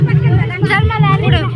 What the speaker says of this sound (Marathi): गर्दी बा किती आहे